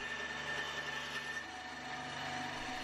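A band saw cutting corners off at an angle hums continuously at close range, a steady grinding, constant whining cut with no pauses.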